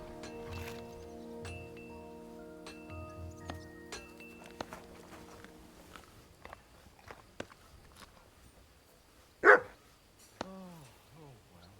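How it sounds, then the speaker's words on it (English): A dog in the video game Kingdom Come: Deliverance II gives a couple of short barks near the end, after footsteps and soft tonal game sounds. "Here, Mutt!"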